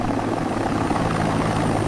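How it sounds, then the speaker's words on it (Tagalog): A cartoon bamboo helicopter whirs steadily in flight, a loud continuous rotor drone with constant pitch and no gaps or talking. "Sakay tayo sa bamboo helicopter!"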